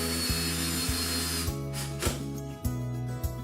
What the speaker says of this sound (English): Line the brackets up with the holes and drill in the screws.